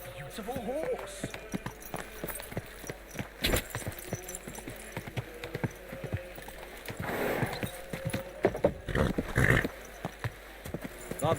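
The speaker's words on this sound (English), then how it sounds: "My, what a beautiful horse." Horse hooves clip-clop in the medieval game Kingdom Come: Deliverance II, a faint, irregular rhythm of steps heard under dialogue between characters.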